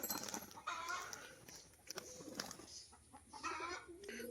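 Male pigeons cooing in a coop where a crested light-biscuit breeding pair is kept, with low, throaty calls repeating irregularly over a busy background of other birds and fowl.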